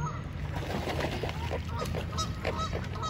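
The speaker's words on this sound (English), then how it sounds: "There's so many birds." A flock of geese at Echo Park, a city park lake in Los Angeles, honks steadily amid a dense outdoor murmur, the calls overlapping at moderate distance.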